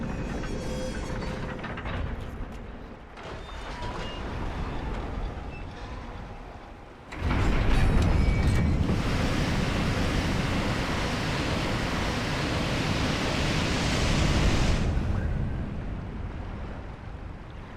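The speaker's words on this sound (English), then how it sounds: "Now that the water has been drained, we can access the next area." Water in the New Londo Ruins of Dark Souls drains after a lever is pulled: a sudden loud, broad rushing roar bursts in and pours steadily for several seconds before easing back to a low ambient rumble.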